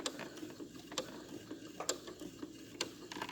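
Sewing machine back stitching a lined tabard, a quiet mechanical whirr with soft rhythmic ticking clicks and a few sharper knocks, close and steady with no talk.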